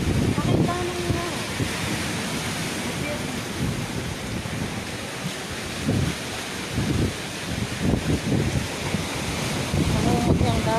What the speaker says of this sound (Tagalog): Namumot yung dagat.